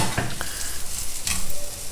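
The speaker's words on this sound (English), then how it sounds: "and just stir fry it for a couple of minutes" Crumbled steamed dal usili with curry leaves is stir-fried in a pan over a reduced flame. A soft sizzle runs throughout, with a few quick scraping stirs.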